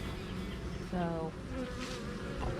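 Honey bees in a hive with some moisture inside during a fall mite check, giving a dense, steady close-up buzz with a brief higher whine rising above it.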